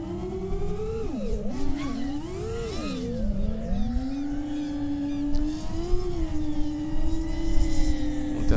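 FPV freestyle drone punching the throttle through a roll and yaw maneuver, a high whining motor buzz that sweeps sharply up and down in pitch, then settles into a steadier rising drone, fairly close and loud.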